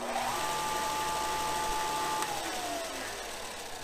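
A Porter-Cable benchtop sander runs at steady speed, giving a smooth, even motor hum with a faint high whine that shifts slightly near the end, close by and without voices.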